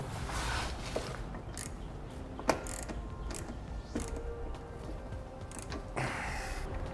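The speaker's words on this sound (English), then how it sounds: "And we'll snug the nut down." A nut is snugged down on the air fitting of a Firestone Coil-Rite air helper spring on a 2007 Chevrolet Suburban, giving sparse, close ratcheting clicks and one sharper snap over a steady low workshop hum.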